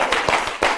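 Audience applause for a lecturer at a live online magic lecture, a short burst of dense clapping from a crowd, loud and close.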